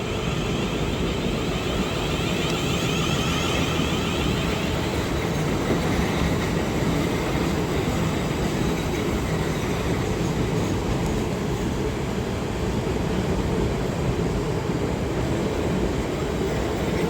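A South Western Railway Class 450 electric train pulls out of Reading station, a steady loud rumble with rhythmic wheel clatter and faint squeal, continuous and close with no talking.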